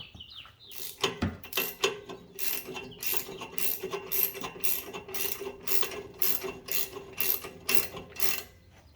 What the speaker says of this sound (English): So I'm gonna take the ratchet off now that I know it's started.